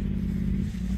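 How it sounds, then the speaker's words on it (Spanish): A brief, low engine rumble, steady and fairly close, like a motorcycle idling or pulling along. "Esa moto no sube aquí."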